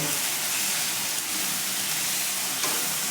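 A loud, continuous sizzle rises as cashew and poppy seed paste is stirred into frying spices in a pan. A couple of soft scrapes come through the steady hiss, recorded close.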